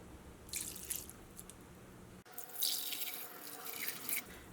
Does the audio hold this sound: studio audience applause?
no